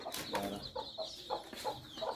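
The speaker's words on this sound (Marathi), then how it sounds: "आमच्या कोंबडीचे बघा किती छान छान गोजीरवाने पिल्ले दिले." A hen with her chicks clucks in short soft bursts at a steady rhythm, with thin chick peeps mixed in, close by and faint with no talk.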